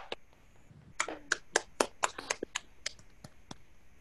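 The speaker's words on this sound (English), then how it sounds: "applause." A few participants at an online Toastbusters speaking-club meeting clap, giving scattered, uneven claps spread over a few seconds, fairly quiet and sparse, like a small group applauding over video call.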